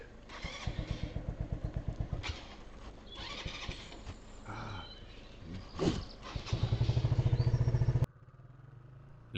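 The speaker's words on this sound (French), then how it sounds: "Le moteur qui chauffe doucement" A 125cc motorcycle engine idling and revving close by, with a rapid pulsing throb that rises and falls, then a steady loud run before cutting off abruptly.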